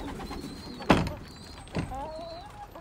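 Young pigeons in a loft, with soft coos and a few faint thin calls over a low background hum, plus two dull knocks like a door or box.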